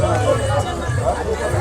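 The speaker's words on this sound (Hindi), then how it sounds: "भीड़ देखिए सुबह के 7 बजे कितनी भीड़ लग गई" A dense crowd of pilgrims fills the Yamunotri trail in the early morning, a continuous close hubbub of many overlapping voices and movement with no single sound standing out.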